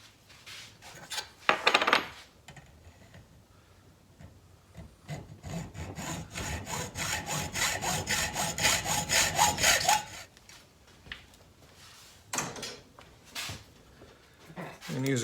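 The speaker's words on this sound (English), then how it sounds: "I'm now just going to take the hacksaw and slit that so that I can flatten it out." A hacksaw slits a short section of pipe to flatten it for a plastic-welded sawmill blade guard: a few quick strokes, then a long run of rapid back-and-forth rasping, then scattered shorter strokes, close and moderately loud.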